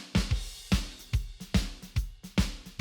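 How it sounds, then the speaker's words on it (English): A band-passed, lo-fi drum bus with a brittle hi-hat: a steady groove of punchy kick and snare hits with thin, crisp cymbal ticks, all played alone with no voices. "So you can hear the hi-hat sounds very brittle right now on the left side."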